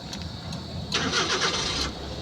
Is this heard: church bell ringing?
no